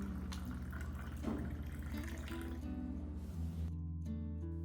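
Room temperature water pours onto white rice in a container, a continuous splashing fill lasting a few seconds with a shifting tone as the level rises.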